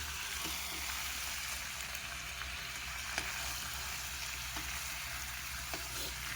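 Fish curry sizzles steadily as it is sautéed in hot oil at a nighttime picnic, a continuous close frying crackle with occasional sharper pops and no talking.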